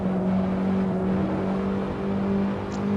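Steady engine drone of a BMW E30 M3 racing in the video game Assetto Corsa, a loud, constant buzzing note held at near-even revs for a few seconds with no voices.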